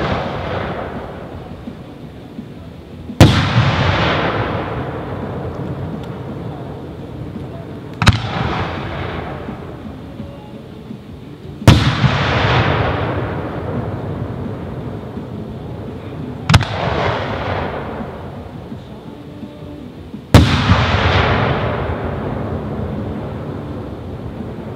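Crown Pyrotechnics 1.3 firework shells burst outdoors in five loud, sharp booms spaced several seconds apart, each trailing off in a long rumbling echo and crackle.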